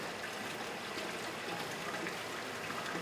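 Water poured off a bag of sieved mineral sediment beside a Wilfley shaking table, a continuous close splashing trickle that stays even throughout.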